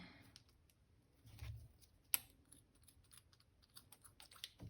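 Scissors snip through crochet yarn in a quiet room, one sharp distinct cut standing out among faint soft handling clicks and rustles.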